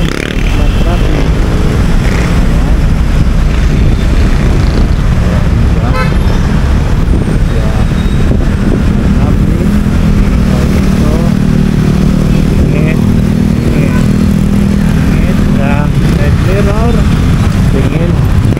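Heavy road traffic on Commonwealth Avenue, heard from a moving motorcycle: a loud, continuous wash of engines with car horns tooting here and there and motorcycles passing close by.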